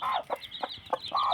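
A village hen with newly hatched chicks clucks close by, giving a series of sharp, evenly spaced clucks, loud and clear with no talking.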